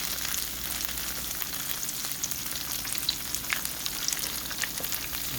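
Ground lamb rice balls fry in a pan, giving a steady, fine sizzling hiss with scattered tiny crackles, close by and uninterrupted.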